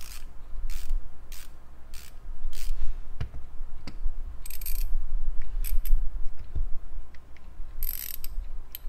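Rapid bursts of soft clicking from a ratcheting screwdriver repeat in short runs, with occasional sharper clicks and handling noise, close up with no talking.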